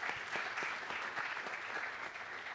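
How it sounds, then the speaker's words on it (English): Audience applause at a green hydrogen energy panel in a conference hall, a steady, dense wash of clapping from a sizable crowd lasting throughout, moderately close with no talk over it. "A round of applause for Dr."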